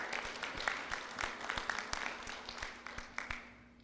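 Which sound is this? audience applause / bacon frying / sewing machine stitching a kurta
audience applause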